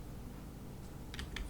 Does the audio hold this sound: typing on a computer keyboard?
yes